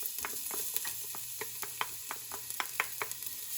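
Garlic sautéing in a little oil in a pan for a salmon sinigang, a steady soft sizzle with repeated light scraping stirs and utensil taps, close and fairly quiet, no talk.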